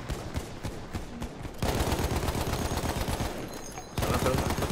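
An MG-15 machine gun fires in Battlefield 1, with dense rapid bursts that break off and resume, loud and close in the game mix.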